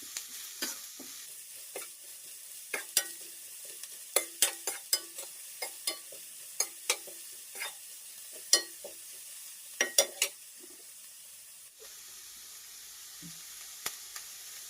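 Veg fried rice is stir-fried over a high gas flame, with a steady low sizzle under repeated sharp scraping and clanking strokes of a spatula against the pan, irregular and close, fading near the end.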